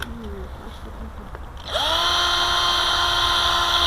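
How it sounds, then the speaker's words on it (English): A power drill spinning up and whirring steadily at high speed, close and loud, while reaming out a hole in a small potato for a rose stem cutting, after a quieter stretch of faint background noise. "I'm going to ream it out a bit so there's more room for that stem."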